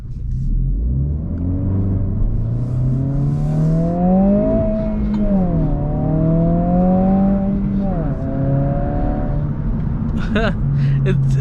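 Engine and exhaust of a 2022 Honda Civic Si while driving, a steady droning note that rises and dips with throttle changes, loud and continuous from inside the car.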